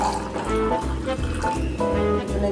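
Hot water pours into a container in a home kitchen, a continuous gurgling stream with a rising filling tone, broken by a few brief splashy pulses, close and fairly loud.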